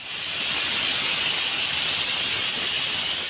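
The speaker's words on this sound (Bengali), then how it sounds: "চার থেকে পাঁচটা সিটি দিয়ে দেবো প্রেসার কুকারে" A pressure cooker whistles with a loud, steady rush of venting steam while mutton curry cooks, a continuous high hiss that holds unbroken for several seconds with no voices over it.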